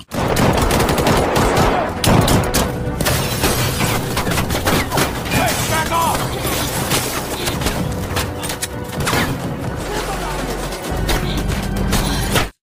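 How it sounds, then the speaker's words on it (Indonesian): A film shootout with loud, dense gunfire, rapid bursts of automatic shots and single cracks piling up over a rumbling soundtrack, with a heavy low boom near the end. "Kemudian terjadilah baku tembak di antara mereka."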